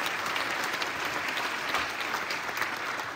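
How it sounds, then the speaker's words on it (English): Steady, fairly faint applause from an audience at a mathematics talk as a guest is called on stage, a continuous even wash of clapping throughout. "Big round of applause."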